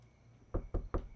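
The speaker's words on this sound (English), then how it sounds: "Oh, we have a knock at the door." Three sharp, evenly spaced knocks at a door in the video game Do Not Feed The Monkeys, close and clear over a faint steady background hum.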